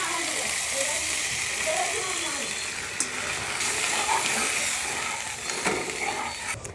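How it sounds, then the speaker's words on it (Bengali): Water poured into a pan of frying spice paste for a rohu fish head curry gives a steady, loud hiss and sizzle that fades only slightly. "এখন পরিমাণ মতো জল দিয়ে দিচ্ছি।"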